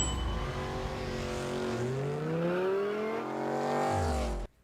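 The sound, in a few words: loud car engine as Dom drives off, Fast saga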